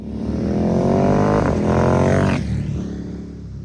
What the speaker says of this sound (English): This bike sounds every bit as menacing as the Monster name suggests.